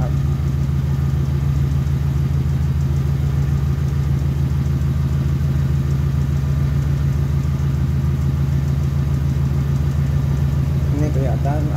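A car engine idles steadily throughout while a radiator is being repaired, a continuous low rumble with a constant hum and no revving, close and alone.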